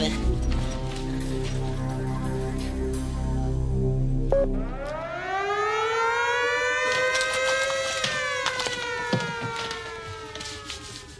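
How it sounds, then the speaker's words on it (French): A siren on a French TV show signals a changeover, rising in a long wailing sweep and holding loud and close, after a stretch of tonal, voice-like sound. "Quand on entend la sirène, on change."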